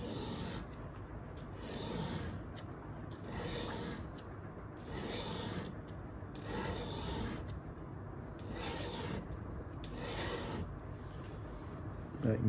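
A knife blade is sharpened on a Bhumi diamond stone in a series of soft, rhythmic rasping strokes. Roughly six even passes, each about a second long, with short pauses between them, quiet and close.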